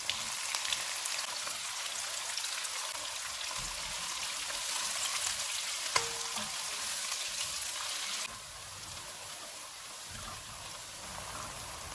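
Three onions fry in oil with cumin in a pan, a soft, steady, rain-like sizzle that stays fairly faint and continuous, easing slightly toward the end.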